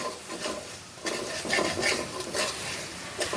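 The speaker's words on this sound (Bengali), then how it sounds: "দেখো মশলাটা কষানো হচ্ছে" Spice masala sautéing in a pan for a thin chicken curry, a steady close sizzle with scraping and stirring strokes that swell and fade across the few seconds.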